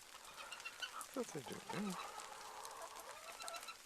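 A flock of hens with one rooster clucking softly in the snow outside their coop, a short burst of calls amid quiet outdoor ambience, with a person speaking briefly.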